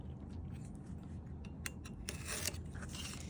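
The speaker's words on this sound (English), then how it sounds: "I'm just trying to cut through that top layer." A blade scoring the top layer of cardboard for a sculpture, a soft continuous scratching and cutting with a few sharper ticks near the end, quiet and close.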